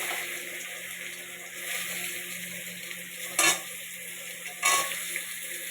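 Taro pieces fry in a pan with spices, giving a steady soft sizzle and hiss, with two brief louder scrapes or clinks from stirring near the end, close and fairly quiet with no voices.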